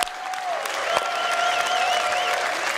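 Audience applause fills a convention hall at CitizenCon, the Star Citizen fan event, steady and loud for about three seconds with crowd noise mixed in.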